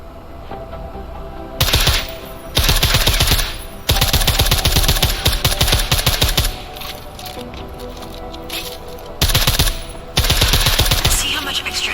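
Bursts of rapid suppressed gunfire from a silenced weapon in Deus Ex: Mankind Divided, loud repeated volleys of dense clicking shots separated by brief pauses, with no talk.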